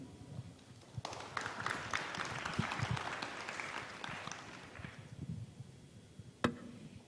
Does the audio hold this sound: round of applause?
yes